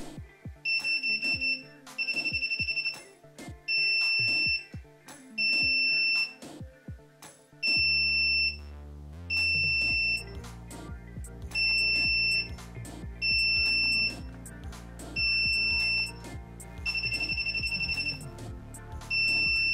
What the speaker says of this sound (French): Plusieurs bips rapprochés correspondront à du full auto.